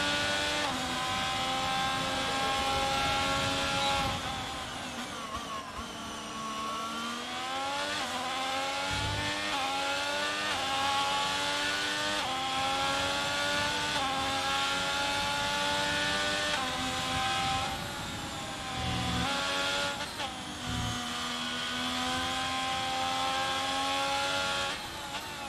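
A race car on a hot lap of the Miami Grand Prix circuit in a racing video game, heard from onboard as a loud, continuous engine whine that rises and falls through gear changes and braking, with no talking.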